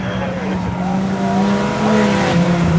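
Race car at the start of a hill climb run at Oberhallau, its engine droning loudly and rising in pitch under a tannoy announcer's voice.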